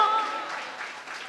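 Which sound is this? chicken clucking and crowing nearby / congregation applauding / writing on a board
congregation applauding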